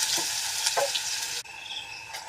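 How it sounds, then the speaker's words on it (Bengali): Potatoes fry in mustard oil with a dense, steady hiss of sizzling close up, briefly dipping before the frying noise resumes. "আর আলুগুলো ভেজে নেব"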